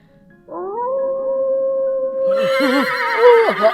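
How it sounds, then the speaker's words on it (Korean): A wolf howl used as a sound effect in a dark, foggy forest scene of a fairy tale, rising and sustained, then joined by a horse's agitated whinnying near the end, loud and close. "갑자기 울려 퍼지는 늑대 소리에 아버지는 놀라 말에서 떨어지고 말았어요"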